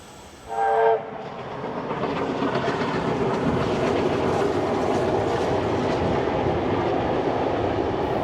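A train horn sounds briefly, then a steam train with a second locomotive, 4490, at the rear rumbles past nearby with a steady, loud roar of wheels and carriages that continues throughout, in New South Wales.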